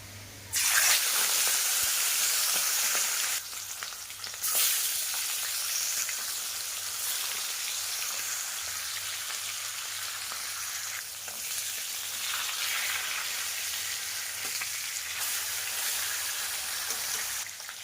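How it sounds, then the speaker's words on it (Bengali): Fish frying in hot oil in a wok gives a loud, steady sizzle with small crackles that holds for the whole stretch, without any talking. "এবার কড়াইতে দিয়ে দেব তেল, দিয়ে মাছগুলোকে ভাজা করে নেব।"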